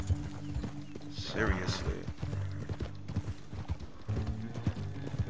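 A horse's hooves clip-clop steadily in the video game Red Dead Redemption 2, a close, rhythmic clatter with a brief whinny, while a person talks over it.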